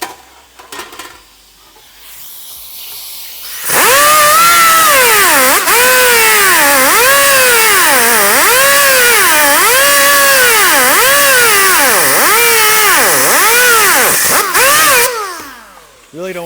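An angle grinder cuts into metal in a welding workshop, loud and close, its whine surging and dipping in rhythmic strokes for about eleven seconds between brief quieter moments before and after.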